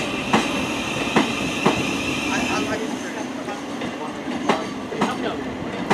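A Thameslink Class 700 electric train running at Brighton station, with steady rolling rumble and repeated clicks of wheels over rail joints, a faint tone fading midway, and platform ambience throughout.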